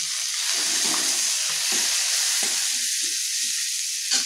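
Raisins fry in a pan along with chopped green chili for paneer fried rice, giving a loud, unbroken sizzle up close and soft scattered stirring taps underneath, with no speech.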